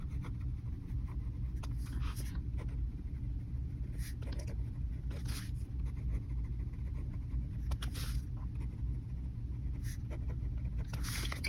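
A normal ballpoint pen writes a sample sentence on paper with a steady, close scratching. The strokes come in short bursts with brief pauses between them, over a constant low background hum.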